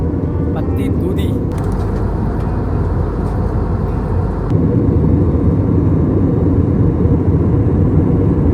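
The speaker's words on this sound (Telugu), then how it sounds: "ఇంకా పైకి పోతుంది ఫ్లైట్ అయితే, మబ్బుల నుంచి పైకి." Inside an airplane climbing above the clouds, a loud, constant engine and cabin drone fills the space without a break, growing slightly louder partway through.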